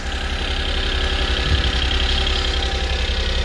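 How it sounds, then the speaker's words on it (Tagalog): A car engine idles at about 1,300 RPM just after a cold start, a steady, close, low rumble with an even rhythmic throb, heard alone with no talking. "Ayan yung makina natin."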